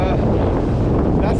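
Steady wind rushes and buffets the microphone on a sandy seaside trail on Île d'Oléron during an ultra trail run, a dense, constant roar with no pauses.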